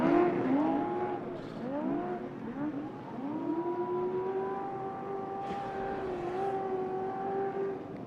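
An unlimited-class off-road race car engine at the Mint 400 revs and shifts through gears, its pitch climbing and dropping repeatedly, loud and close, with no voices.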